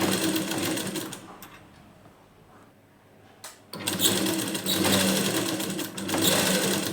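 A sewing machine stitches a readymade chudidar dress during alteration, running in loud rapid bursts, pausing for about two seconds in the middle, then whirring again steadily to the end.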